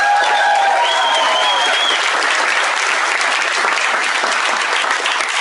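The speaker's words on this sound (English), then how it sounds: "Give them a round of applause." Sustained, dense applause from a large audience at a motivational speaking event in South Africa, steady and loud throughout, with a few cheers and whistles rising over it near the start.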